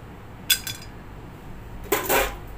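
Dry sticks of long pepper are tossed in a metal pan for dry-roasting. Two brief, crisp metallic clinks and rattles ring out about one and a half seconds apart against a quiet kitchen background.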